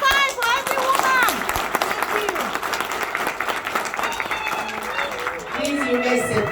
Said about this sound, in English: You clap with one finger.